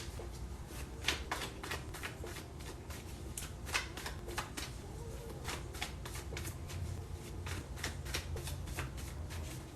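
Tarot cards are shuffled steadily for about ten seconds, a continuous close riffling and rustling with frequent soft flicks and slaps of card stock, and no voices.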